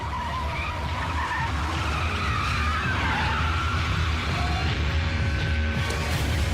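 A car engine roars continuously while tires skid and squeal loudly throughout, with no voices.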